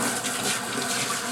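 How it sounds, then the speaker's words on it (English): Running water pours steadily over a Shih Tzu during a bath, rinsing shampoo from its face and feet; a continuous close splashing wash with no voices. "I like getting water on his face"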